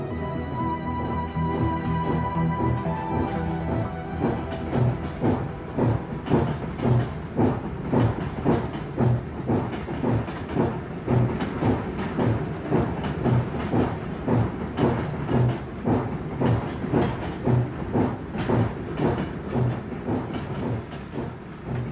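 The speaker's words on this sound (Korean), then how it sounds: "기차는 시속 10km로 아주 천천히 운행했다" A train rolls slowly at about 10 km/h along newly laid track without ballast gravel, its wheels clicking and clacking in a regular rhythm with a constant rumbling underneath.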